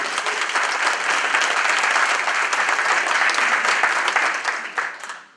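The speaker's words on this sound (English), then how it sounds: "a round of applause one more time" Sustained applause from a seated audience at a community meeting, dense and fairly loud, steady for about five seconds before tapering off at the end, with no talking.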